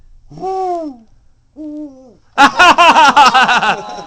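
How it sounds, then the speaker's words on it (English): Up close indoors, a live owl in a studio lets out a long hoot, then a shorter one, then a loud run of rapid, chattering hoots that sound almost like laughter, with no speech. "Let's see if we can get him to hoot."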